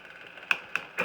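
Gears on a tandem bicycle click while shifting: three sharp, quiet clicks spaced about a quarter second apart, with a faint steady background.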